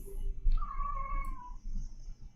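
A single drawn-out cat meow, rising then falling, heard alone over a low background rumble.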